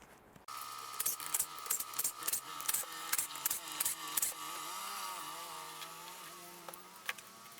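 A power tool whirs in short repeated bursts while backing out T25 Torx screws on a 1988 Mercedes 190E W201 door during window regulator repair, then settles into a longer steady run, close and fairly loud.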